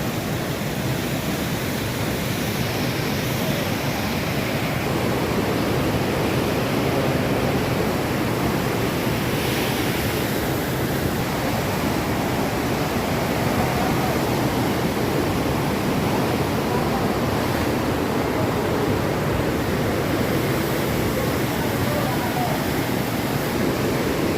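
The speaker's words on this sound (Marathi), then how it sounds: "हे भीमा नदीला आलेलं पाणी पूर आहे" Floodwater of the Bhima river rushes past near a kund at the Kondmauli Devi shrine, a dense, unbroken roar holding steady throughout.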